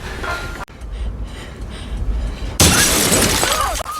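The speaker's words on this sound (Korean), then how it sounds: "갑자기 유리가 깨지며 콩 하는 소리가 들립니다" Inside a stalled elevator, after a low rumbling lull, glass suddenly shatters with a loud, bright crash that rings on for over a second.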